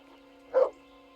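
A single short dog bark in a medieval video game, fairly close and distinct, rising briefly over a steady electronic hum.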